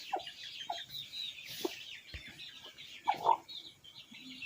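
A broody hen sitting on a clutch of eggs in a sand-and-soil nest gives soft, intermittent clucks close by, with quiet gaps between the short calls.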